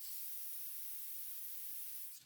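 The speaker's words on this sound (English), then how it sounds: "you're gonna wanna spray your silicone spatula" Cooking oil sprayed from an aerosol can onto a silicone spatula in a kitchen, one continuous close hiss lasting about two seconds before cutting off.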